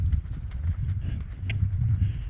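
Horse hooves beat at a jog during a lead-change training session, a steady, fairly soft rhythmic clip-clop on ground, close by with no voices.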